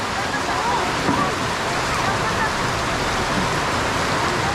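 Heavy rain roars steadily in a dense, unbroken hiss, loud and close, with no pauses.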